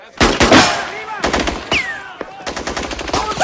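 Ongoing gunshots and machine gun fire in a tense urban standoff, loud irregular bursts and single cracks separated by short gaps, with ringing echoes between volleys.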